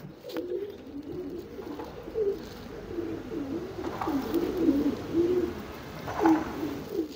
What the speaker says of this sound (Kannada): ಇದು ದುಬಾಸ್ ತಿರಾವಾಲು ನನ್ನ ಫೇವ್ರೆಟ್ ಬರ್ಡ್ ಸರ್